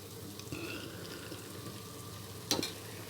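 Masala sizzles steadily in hot oil in a pan for a fish curry, a continuous close crackle with one brief louder scrape of stirring near the end.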